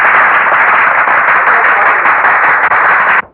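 A crowd claps in a courtroom during a witness's testimony: loud, dense, even clapping from many hands continues without a break, then cuts off abruptly near the end.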